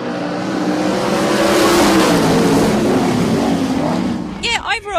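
Sprint cars race at Broken Hill Speedway, a loud, steady engine roar that swells and holds for several seconds before easing off. A voice breaks in briefly at the end.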